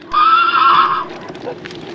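A horse gives a loud, close whinny lasting about a second, high and wavering, then fades into quieter background noise.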